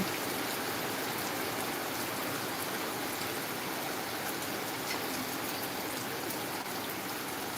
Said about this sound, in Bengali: হালকা হালকা বৃষ্টি